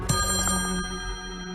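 A phone ringing in the Slayaway Camp puzzle game, a short bright electronic ring with a sharp onset and sustained tone, heard alone and brief.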